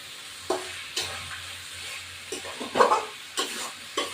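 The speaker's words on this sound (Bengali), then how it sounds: "এবার এই কষাচ্ছি, কষাতে এটা প্রেশার কুক করবো।" Spices for Bengali mutton kosha being stirred in a hot pan, with soft sizzling underneath and repeated sharp scrapes and clinks of the spoon at irregular intervals, close by.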